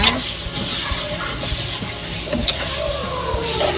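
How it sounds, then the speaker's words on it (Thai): Taco filling with onion stir-fried dry in a pan: a steady close sizzle and hiss of frying, with a few scraping stirs and clinks, and no talk. "เราจะผัดกันแบบแห้งๆ อย่างนี้แหละค่ะ ใส่หอมใหญ่ลงไปแล้วนะคะ"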